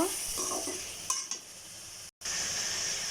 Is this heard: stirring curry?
yes